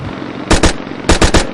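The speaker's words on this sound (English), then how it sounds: "sounds of gunfire." Gunfire sound effects for an animated film: two quick pairs of sharp, loud shots, each burst a tight double crack, separated by a brief pause over a faint background hiss.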